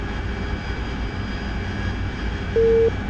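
In the combat flight game DCS World, an aircraft engine drones steadily as the throttle eases back at altitude, a loud continuous cockpit hum with a short electronic tone near the end and no talk.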